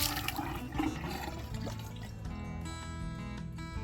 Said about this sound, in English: Water flows good now.